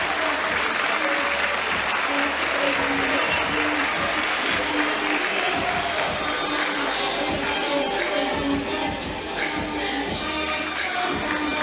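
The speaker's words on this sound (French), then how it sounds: "Un tonnerre d'applaudissements s'il vous plaît pour Miss Lance 2023." Loud, sustained crowd applause at the Miss Lens beauty pageant in Lens welcoming the 2023 titleholder on stage, a thick unbroken wash of clapping with some shuffling and faint voices beneath.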